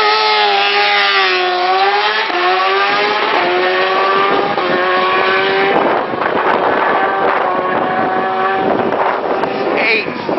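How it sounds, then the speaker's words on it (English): A BMW S 1000 RR sport bike screams past on a fast drag-strip pass, its high-pitched engine climbing through several upshifts in a long sustained wail, loud and close. "That's a fast motorcycle."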